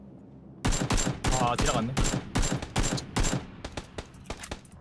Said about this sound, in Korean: 어 총소리 나는 거 같아.